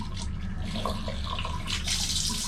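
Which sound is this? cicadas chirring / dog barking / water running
water running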